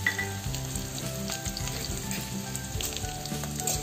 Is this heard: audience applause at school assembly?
no